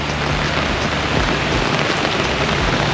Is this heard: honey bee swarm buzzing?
no